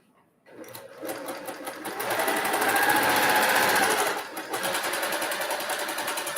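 Sewing machine fitted with a quarter-inch foot stitching a quilt block, running in a steady close whir that rises to full speed, dips briefly, then carries on stitching evenly.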